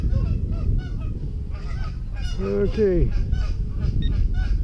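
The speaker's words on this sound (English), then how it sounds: "The geese are yakking at me." Geese honk repeatedly at a park beach, loud and close, with a cluster of cries in the middle over steady outdoor wind noise; a person speaks one short word.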